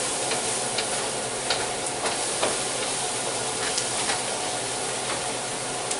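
Julienned scallions drop into a hot pan and sizzle with a steady, close frying hiss, sprinkled with small crackles and pops throughout.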